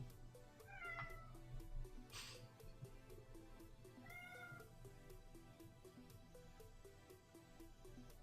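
A cat meows twice indoors in an apartment, two rising cries a few seconds apart over a quiet steady background hum, moderately close.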